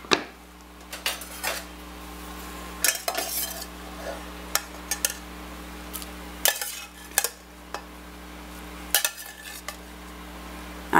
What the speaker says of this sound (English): I am draining the fat off of this as I'm scooping it out of the skillet